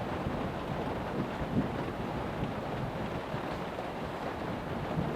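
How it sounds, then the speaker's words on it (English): Heavy rain drums steadily on the roof of an off-grid shelter during a storm with strong wind, a dense, continuous wash of patter close overhead with no pauses. "I love listening to the sound of the rain on the roof here."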